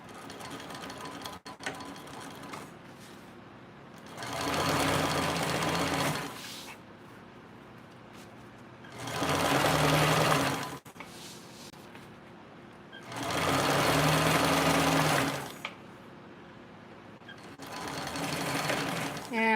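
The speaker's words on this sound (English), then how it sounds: "I'm just going to top stitch right here" A sewing machine top stitches fabric an eighth of an inch from the edge, running in four steady whirring bursts with pauses between them, close and clear, while someone talks during the gaps.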